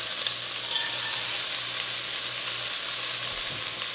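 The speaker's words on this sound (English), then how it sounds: "Now I'm going to stir this around." Rice stirred in a pan with leeks for risotto, a soft, even sizzle that continues close and steady under light stirring, with a low hum underneath and no one speaking.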